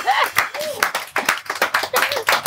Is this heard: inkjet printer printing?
no